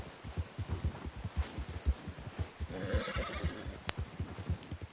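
A horse neighs in Red Dead Redemption 2 over a steady clip-clop of hooves, a loud whinny rising midway through the ride.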